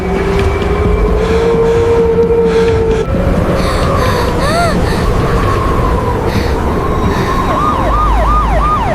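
A loud ambulance siren wails continuously with rising and falling tones, shifting into a rapid yelp pattern, over heavy traffic-like noise.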